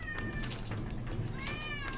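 A cat meows twice, drawn-out and whiny, close but fairly quiet, over a low steady background hum with faint tapping, and no talking.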